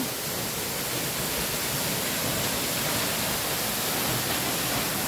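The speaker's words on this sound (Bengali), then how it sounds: "প্রকৃতির কি জিনিস, সব সময় জল এরমভাবে পড়েই যাচ্ছে।" Jonha Falls pours steadily, a broad, unbroken roar of falling water at constant loudness, close and enveloping, with no voices.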